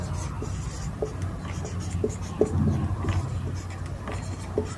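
Chalk or marker writing numbers on a board during a math lesson, with scattered light taps and scratchy strokes over a steady low room hum; no one speaks during the strokes.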